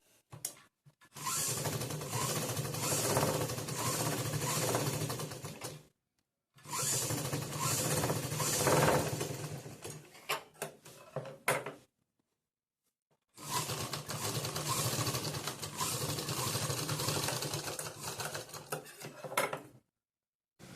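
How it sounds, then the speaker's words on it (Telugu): Sewing machine running in three long bursts of rapid stitching on a cross-cut saree petticoat, with short pauses between runs, close and steady, no talking. "ఫస్ట్ అయితే ఒక కుట్టు వేసేసుకుందాం మళ్ళీ తిప్పి పైన ఇంకొక కుట్టు వేసుకుంటే సరిపోతుంది"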